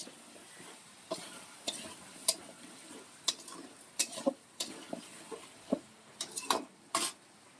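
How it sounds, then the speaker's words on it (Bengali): Spice masala with vegetables is stir-fried for khichuri, producing a faint sizzle under irregular sharp clinks and scrapes of a spatula against the pot, coming in quick uneven bursts. "ভালো করে কষাতে হবে বন্ধুরা মশলাটাকে"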